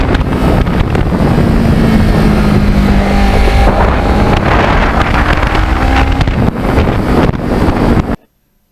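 A Kawasaki Ninja 650R motorcycle on a fall ride to Fayson Lakes, its engine droning steadily under loud buffeting wind noise, with slight pitch shifts as it accelerates, before cutting out abruptly.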